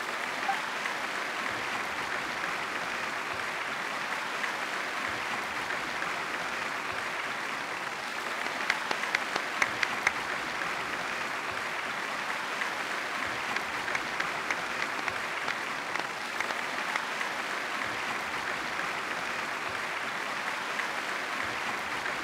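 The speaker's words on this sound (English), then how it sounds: "Will the applause continue after I take off the mask?" Sustained applause from an in-game audience after a performance in Genshin Impact, a dense, steady wash of clapping that holds at a constant level throughout with no voices over it.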